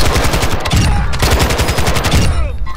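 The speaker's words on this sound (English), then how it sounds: "Oh, he's getting shot at." Rapid automatic gunfire in Warzone 2, a dense near stream of machine-gun bursts running continuously throughout, loud and steady with no talk over it.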